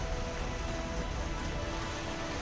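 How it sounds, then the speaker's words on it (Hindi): Heavy monsoon rain in Mumbai at night, a steady dense hiss of downpour with no gaps, loud and even throughout. "मुंबई में आधी रात के बाद जो मुसीबतों की बारिश शुरू हुई तो घंटों तक थमी नहीं"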